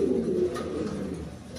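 Pigeons coo in a pigeon loft, a close, low, throaty burbling that rolls on continuously, loudest in the first half and softening slightly toward the end.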